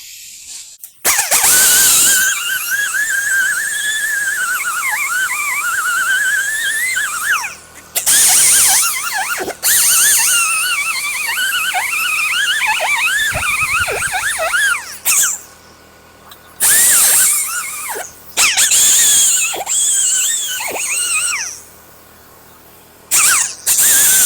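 A power tool cleaning the engine surface where the intake manifold mounts on an International Harvester 140 tractor: loud, whining grinding in repeated long bursts, its pitch wavering under load, with short pauses between passes.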